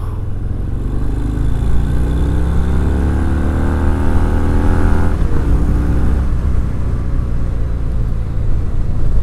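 A 2019 Harley-Davidson Fat Bob 114 motorcycle accelerating hard, its loud close engine rising steadily in pitch through a gear, then a shift and a continued throaty pull.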